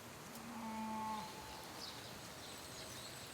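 Cattle low across a moist floodplain pasture in the Sava floodplains of Croatia, one drawn-out moo rising and holding for about a second over faint outdoor ambience, fairly distant and alone.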